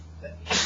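A single short, sharp sneeze near the end, following a moment of quiet classroom room tone.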